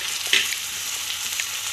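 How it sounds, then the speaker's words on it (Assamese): Chicken meat fries gently in a pan over a low flame, giving a soft, steady sizzle with a brief scrape of stirring near the start. No one speaks. "এতিয়া অলপ টাইম ভাজি থাকিম মাংসখন অকণ ভাজি ল'লোঁ"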